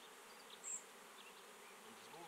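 Honey bees buzzing softly around a small nucleus hive during a beekeeper's frame handling, a steady faint drone with one brief louder pass near the microphone, no talking.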